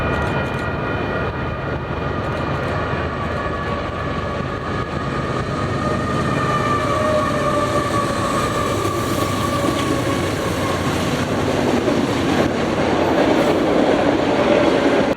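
Freight train ZLBDV, led by a Tier 4 GEVO locomotive, rolls past in Utah with a loud sustained rumble, clattering wheels and steady engine tones that swell slightly as it nears.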